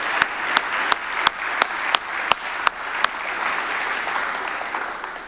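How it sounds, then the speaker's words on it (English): Audience applause at a conference closing, warm steady clapping with several sharp, loud individual claps standing out near the start before settling into an even ovation. "I would like to give everyone to give a very warm applause to Sandra"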